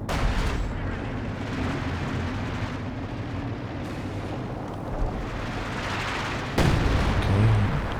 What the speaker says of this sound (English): Okay, quite a deep LFH barrage.